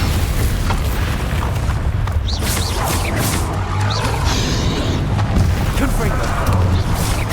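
A Bombarda spell explosion in the Hogwarts Legacy video game booms over dense, continuous battle noise, with rumbling blasts and crashing bursts running through the whole stretch.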